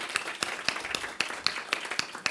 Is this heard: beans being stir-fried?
no